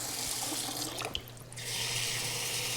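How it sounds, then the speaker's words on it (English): Hot water runs in a steady stream into a pot holding sugar and corn syrup for peanut brittle, a continuous close splashing pour with a brief break partway through. "now I'm going to put in half a cup of hot water"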